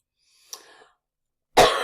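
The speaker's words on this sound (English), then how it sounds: "I got a little bit of a cough today." A single short cough is followed a second later by a louder, harsher cough, close to the microphone with silence between.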